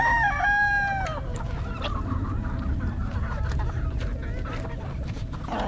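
Chickens and roosters on a breeding farm range: a rooster crows loudly at the start, then hens cluck and squawk repeatedly over a constant crowd of birds and outdoor noise.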